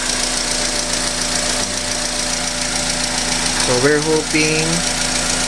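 A Honda Accord engine idles with a ticking fault, giving a steady, close mechanical hum. Someone speaks briefly over it.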